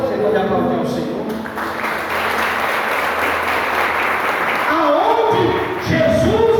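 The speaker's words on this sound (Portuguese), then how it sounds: "Você pode aplaudir ao Senhor?" A church congregation at a Lord's Supper service applauds loudly and steadily throughout, with a voice rising over the clapping near the end.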